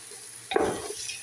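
Whole cumin, whole coriander, garam masala and cinnamon get a quick stir in a hot frying pan, giving one short scraping, sizzling burst midway through an otherwise quiet stretch.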